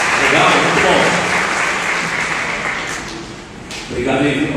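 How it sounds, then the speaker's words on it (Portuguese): A church congregation applauds in a loud, sustained burst of many hands clapping at once, tapering off toward the end as voices carry through the hall. "Salve de palmas, gente, salve de palmas, né?"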